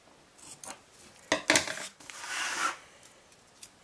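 A few quick snips of scissors, then a longer slicing cut through paper, close by and fairly quiet, with short pauses between.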